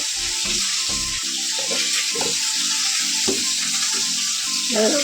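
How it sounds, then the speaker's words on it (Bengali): Tap water runs in a steady loud stream while small chuno fish are washed, with intermittent clattering and thumps of handling over the constant rush. "মাছটাকে ধুয়ে নেবো"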